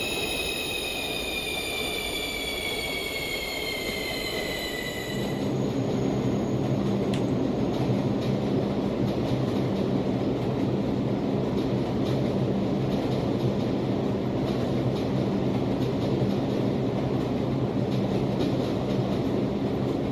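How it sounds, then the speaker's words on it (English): A minecart-style train in the Minecraft video game rolling along rails, a steady, close rumble with a squealing tone at first and faint repeated clacks, continuous throughout with no talking. "I like how this sounds, like the clacking isn't glitching out as much."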